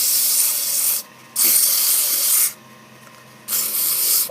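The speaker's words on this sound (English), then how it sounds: "I'll try and sand from this side so you can see what I'm" A wooden wine bottle stopper being sanded, giving loud, steady abrasive rubbing in three long passes separated by short pauses, close up with no talk.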